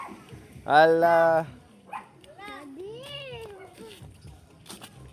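A dog barks and whines loudly near the start, with a short harmonic yelp, while children and adults chatter around it during a lively family birthday gathering.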